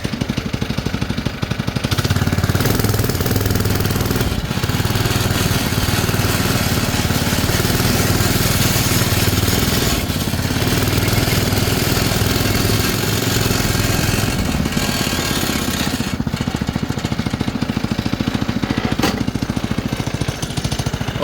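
A newly installed Briggs and Stratton engine, replacing a Tecumseh on a mower, runs for the first time: a loud, steady, close engine drone that holds throughout with a few brief dips, no talking.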